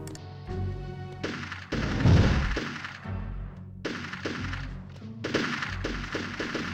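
Repeated gunfire bursts from the video game Army Men: Sarge's Heroes, loud sharp volleys with thudding impacts recurring through the stretch, with no talk over them.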